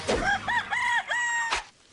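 A rooster crows loudly in a film scene at a chicken coop, a single drawn-out cock-a-doodle-doo in several rising and falling phrases, with hens clucking faintly around it.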